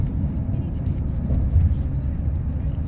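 A heavy eighteen-wheeler truck passes on a Houston bridge, its steady low engine and tire rumble loud and close throughout, with a slight swell near the middle as it goes by.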